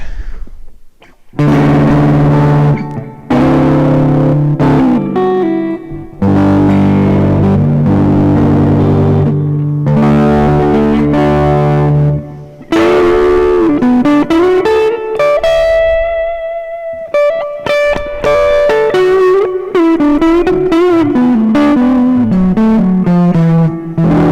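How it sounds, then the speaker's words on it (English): Electric guitar on the neck pickup played with a clean tone, ringing chords and single notes with sustained, bright harmonics and a touch of reverb, a few pauses between phrases. "So here's some clean tones again, starting at the neck."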